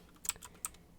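A few quick, quiet clicks on a computer keyboard while typing HTML code, three or four close taps in a brief burst with no voice.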